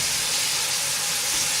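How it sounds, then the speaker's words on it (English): Meat for chilli con carne browns in a really hot pan, a loud, steady, close sizzle and hiss that runs unbroken from start to end with no talk. "So I'm browning off that meat now,"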